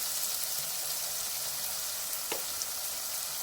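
Green chillies sizzle steadily in hot oil for a bean and tomato curry, a close, continuous frying hiss with a brief stir or clink near the end.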